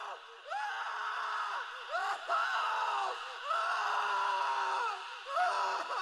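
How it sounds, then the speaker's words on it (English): Agonised screams and wailing cries rise from deep within Stroud Manor under a full moon in a horror audio drama, several drawn-out anguished shrieks in sequence with brief pauses, echoing and continuous. "Somewhere in its bowels, a scream rises up."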